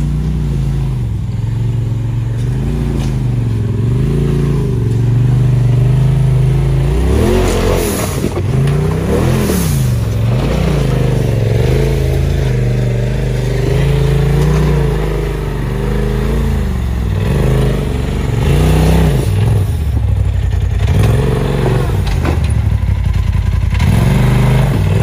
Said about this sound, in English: We've got three Razors, turbo, a four-seater, and a regular XP1000.